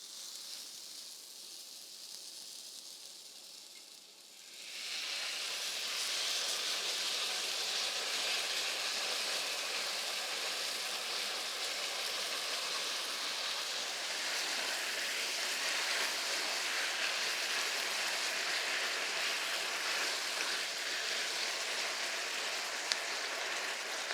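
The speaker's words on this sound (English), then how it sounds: "it's just really just bubbling away" Teriyaki sauce and vegetables simmer in a pan, giving a soft, steady bubbling hiss that grows fuller after a few seconds and then holds evenly, close and unbroken, with no talk.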